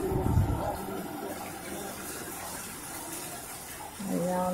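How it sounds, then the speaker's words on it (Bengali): Floodwater surrounding a house produces a continuous rushing, splashing wash of water, with people's voices briefly heard at the start and end. "আমাদের এখানে শুধু জলই জল। আমাদের ঘরে উঠতে আর অল্প বাকি আছে জল।"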